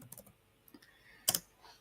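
Typing on a computer keyboard while writing a code comment: a few scattered soft key clicks, then a louder cluster of quick presses near the end, close and without talk.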